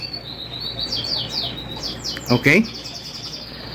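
Caged birds in a backyard aviary and wild field birds chirp in a quick run of high, repeated tweets and short calls at moderate distance, and a voice speaks briefly near the end.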